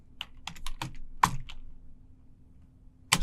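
Someone types a terminal command on a computer keyboard: a handful of sharp, close keystrokes in an uneven rhythm, a long quiet pause, then a final loud burst of clicks.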